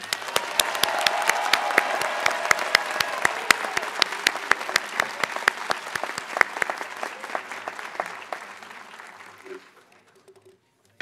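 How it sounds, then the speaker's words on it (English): Family, friends and guests at a community GED/HSED graduation ceremony applaud the class of 2021, with sharp individual claps in a steady stream that thin out and fade to near silence by the end. "Would the family, friends, and guests of the candidate please join me in a round of applause for the class of"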